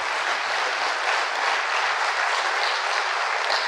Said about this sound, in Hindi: अपने लिए ताली बजा लो।